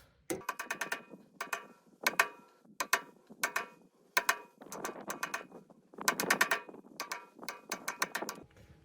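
A tow dolly wheel hub cap is tapped lightly with a metal tool, giving rapid bursts of bright metallic clinks in short repeated clusters, close and clear with no talk.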